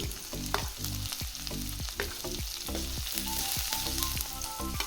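Onion, green chili and tomato fry in a pan for shavige bath, giving a steady close sizzle broken by regular scraping stirs throughout, with no talking.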